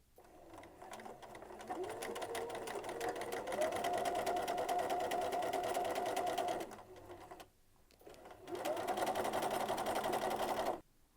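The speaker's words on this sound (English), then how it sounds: "gradually just stitch right off where you come to the end of the open area" A sewing machine stitches off the ends of fabric darts on a jellyfish cat toy, running steadily in two long, close bursts with a short pause between them.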